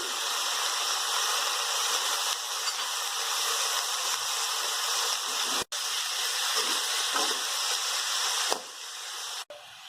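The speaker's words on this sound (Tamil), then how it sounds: "இப்போ இதெல்லாம் சேர்ந்த மாதிரி நல்லா வதங்கணும்." Onion chutney mixture with mint and coriander sautés in a pan, giving a continuous broad hiss that holds steady throughout, broken by two brief sharp dropouts near the end.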